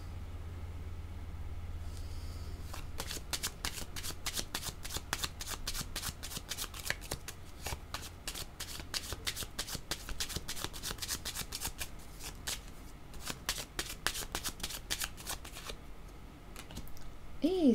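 Tarot cards are shuffled by hand in rapid riffling bursts, crisp close flicks repeating in clusters with brief pauses, over a faint low hum at the start and no talking.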